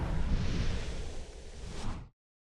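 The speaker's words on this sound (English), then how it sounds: "this is the fire spell charge" Fire spell charging up in a wizard video game built in Unreal Engine 5: a steady, dense whooshing roar with a brief swell near the end, then a sudden cutoff to silence.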